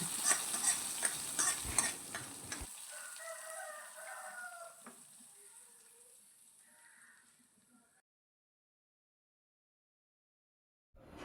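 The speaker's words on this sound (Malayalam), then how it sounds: "നമുക്കിത് കറിയിലേക്ക് ഒഴിച്ച് കൊടുക്കാം." Fried onions in hot oil are poured into the curry with a loud sizzling burst that settles into a softer, fading crackle, then goes quiet.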